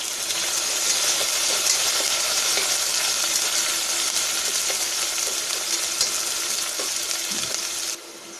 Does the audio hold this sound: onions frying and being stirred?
yes